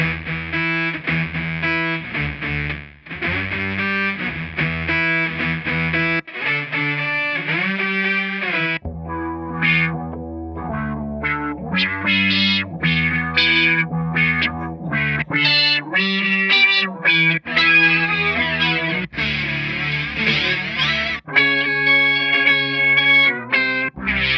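Electric guitar played through Keeley Synth-1 and Boss SY-1 synth pedals gives thick, distorted synthetic tones with wobbling, chorus-like effects. Phrases shift and sweep continuously, loud and close, with no talking.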